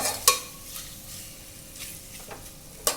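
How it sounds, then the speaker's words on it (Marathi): Egg masala for egg biryani sizzles in a pan as it is sautéed and stirred, a low constant fry with two crisp metal clinks of the spoon against the pan at the start and end. "चांगलं परतून घ्यायचं आहे मसाला सगळा लागला पाहिजे अंड्याला कोट झाला पाहिजे"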